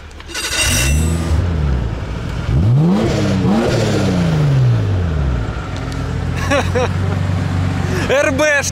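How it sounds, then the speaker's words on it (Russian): Car engine revving repeatedly with one cylinder smoking, rising and falling harmonic sweeps of loud mid-pitched engine noise close by, with people talking over it. "Чуть-чуть покрутили двигатель,"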